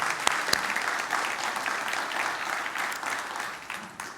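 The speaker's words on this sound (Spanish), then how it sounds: "Dale un aplauso al Señor." Congregation at a Spanish-language church service claps steadily for about four seconds, a dense, sustained wash of applause with a few sharper claps near the start, then thinning slightly at the end.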